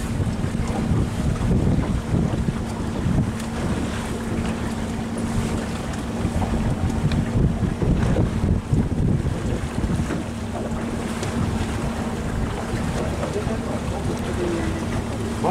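A boat motor drones steadily on Lake Biwa in Shiga, with wind buffeting the microphone throughout and faint voices in the background.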